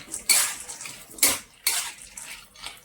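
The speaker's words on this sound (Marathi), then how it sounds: "आता मी त्याच्यामध्ये शेंगदाणे हे सालपट काढलेले घालणार आहे आणि ते परतून घेणार आहे" Peeled peanuts are tipped into a pan to roast with cumin, making three short rattling, scraping bursts of pan and utensil noise, close and moderately loud, with quiet gaps between them.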